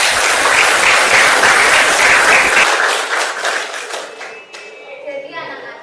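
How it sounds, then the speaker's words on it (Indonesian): A history classroom full of students bursts into loud, close applause that runs steadily for a few seconds, then thins and fades as a voice and quieter room sounds take over. "Oke, tepuk tangan dulu."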